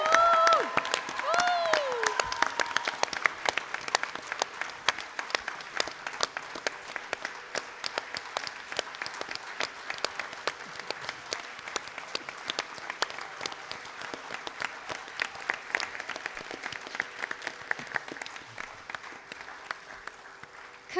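An audience applauds steadily for Priya after her Bharatanatyam arangetram, dense clapping from a sizeable crowd running about twenty seconds, with a brief voice near the start and the applause thinning slightly toward the end.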